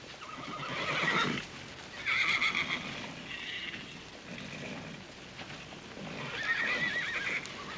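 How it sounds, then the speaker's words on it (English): Horses at an auction neigh and whinny loudly several times, with steady hoof clip-clop running underneath throughout. "Oh, Mr. Tabor, I've got some horses up for auction here."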